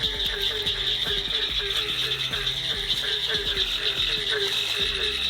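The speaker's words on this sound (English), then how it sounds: "We hear some barking tree frogs" A chorus of barking tree frogs calls steadily in the North Carolina Sandhills, with a rhythmic, repeated barking croak close by over a constant high-pitched trill.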